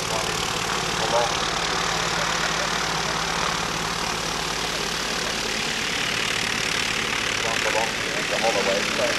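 A vintage propeller aeroplane engine drones steadily during an airshow flypast at a race day commemorating the MacRobertson Air Race, a continuous loud roar with open-air wind noise throughout.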